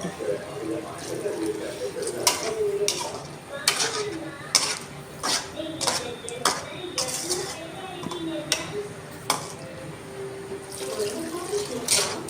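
Water runs and splashes into a pot of peas and potato kurma amid clinking of dishes and utensils, with scattered knocks throughout and someone talking nearby.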